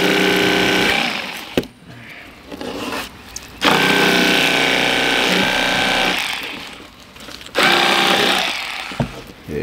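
A Realtree cordless electric fillet knife cuts through fish in several loud buzzing bursts, the motor's whine starting and stopping in uneven runs separated by brief pauses and small clicks.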